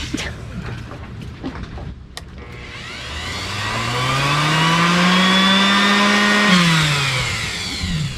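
A power tool's motor whirs up to a high, steady whine and holds it, with a rough grinding edge, as it sands slippery shoe soles, then starts to wind down near the end.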